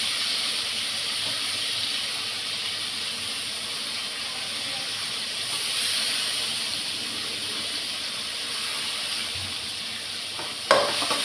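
Tomato with turmeric sautés in a pan, giving a steady broadband sizzle and hiss that holds evenly, with a brief clatter near the end and no talking.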